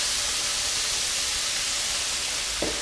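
Steady, loud hissing and sizzling of potato cooking water steaming in a hot frying pan, continuous throughout, with a faint clink near the end.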